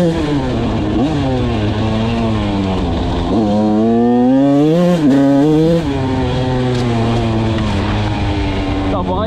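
Motorcycle engine running steadily while riding on a rough rutted track, its harmonic drone rising and falling with throttle changes, loud and close, with a rider's voice over it.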